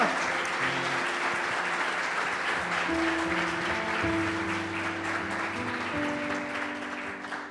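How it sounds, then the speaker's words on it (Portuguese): A congregation applauds girls during a church service, producing sustained, dense clapping with a few held musical tones running underneath. The applause stays full and even before easing slightly toward the end. "Vamos dar um aplauso para essas meninas que agora estão ali, na contramão do mundo"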